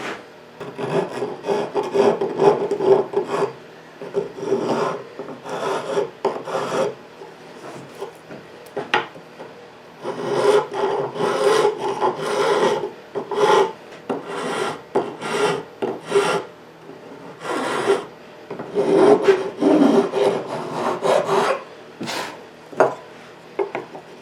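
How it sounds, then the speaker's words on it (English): Sharp chisel working wood for a handmade phone stand, producing repeated rasping, scraping strokes in bursts of rough rubbing with short pauses between, close and fairly loud, no speech. "you need a good sharp chisel"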